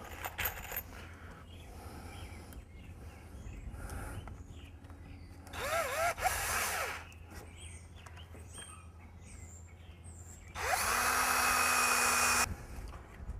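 A power drill drives deck screws into 2x4s while a hoop pen base is assembled with cattle panels, heard as two separate whirring bursts that spin up to a steady whine, with quieter clicks and handling noises between them.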